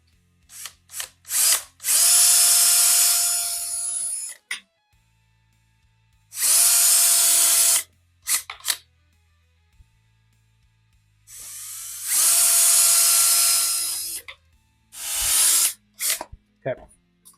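Power drill boring holes through the sheet-metal body of a Volkswagen Bug during restoration, with four long loud whining bursts separated by pauses and short trigger blips, close and alone.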